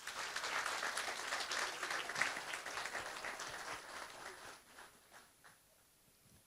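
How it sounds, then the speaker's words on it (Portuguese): An audience at a lecture on the economics of longevity gives sustained applause honoring the elderly, dense clapping that holds steady and then thins out toward the end. "eu peço uma salva de palmas para todos eles."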